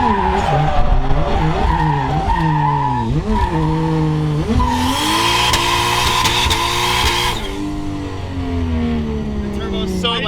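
Tires spinning and squealing through first and second gear on a 600HP 1JZ-swapped Lexus SC300, the engine revving hard with rising and falling pitch, loud and close from inside the car, with voices talking over it.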